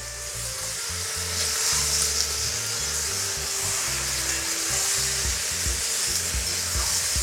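Chicken and potatoes sizzle loudly in a kazan on a kamado grill, a steady close frying hiss with stirring and scraping sounds, and no talking.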